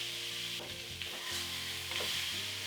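Cauliflower sautes in a hot pan for an aloo gobi, giving a steady sizzle broken by a few scraping stirs, close and continuous with no voices.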